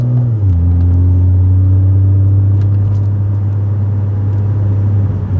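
A BMW with a DCT dual-clutch gearbox crawls through city traffic, its engine giving a steady low drone that shifts pitch once early on, then holds an even, continuous rumble close by with no talking.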